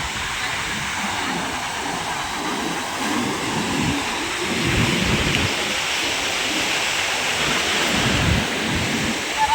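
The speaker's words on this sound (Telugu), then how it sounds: "సముద్రం అల్లందు మా ఊరు అలలైతే బాగా వచ్చేసాయి అనమాట" Ocean waves break and wash in at Kodur beach near Nellore, a loud, steady roar of surf with swelling surges, heard alone without speech.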